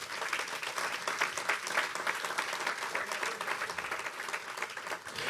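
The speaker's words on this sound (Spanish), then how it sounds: "Dale un aplauso al Rey, iglesia." A church congregation claps continuously during a sermon, a dense, sustained wash of applause from many hands filling the room at moderate loudness with no talk over it.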